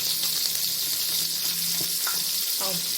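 Sliced onions fry in a pan with bay leaf, cinnamon, cloves, fennel seeds and mace for Ambur star biryani. A loud, continuous sizzle is heard close up, with occasional stirring scrapes and a faint voice briefly underneath.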